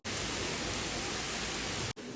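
Heavy monsoon rain pouring steadily in a park, a dense loud hiss that fills the space, then cuts off abruptly near the end.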